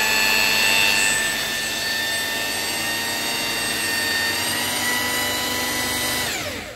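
Alternator for a water turbine spinning with a steady high-pitched whine and hum, holding its tone before winding down at the end, loud and close.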